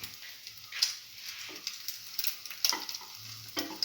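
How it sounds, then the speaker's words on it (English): Slice of bread, dipped for cinnamon French toast, frying in a pan with a soft steady sizzle and a few faint scrapes and clicks, close and alone without talk. "put it into the pan and let it cook"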